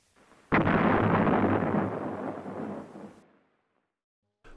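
An M7 Priest 105 mm howitzer fires a single shot in 1944 wartime footage, a sudden loud boom that rolls on and decays over about three seconds before cutting to silence.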